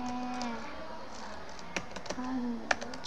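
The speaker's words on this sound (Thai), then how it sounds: "ขอพิมพ์ก่อนนะลูก" A few sparse clicks of typing on a computer keyboard during an online primary-school Thai lesson, faint and irregular, mixed with a voice in the background.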